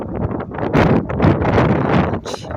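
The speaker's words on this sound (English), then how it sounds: "it's very windy" Hurricane Milton's strong wind buffets the microphone outdoors in northeast Florida, producing loud gusty rumbling bursts over a few seconds.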